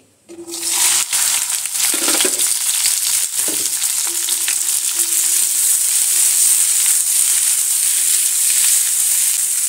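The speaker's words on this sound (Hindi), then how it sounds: "अभी जो है ऑयल है वो गर्म हो गया है तो इस बार डाल देंगे भिंडी" Okra drops into hot mustard oil and fries on full flame, an immediate loud, steady sizzle and crackle that holds strong throughout, with faint stirring scrapes early on.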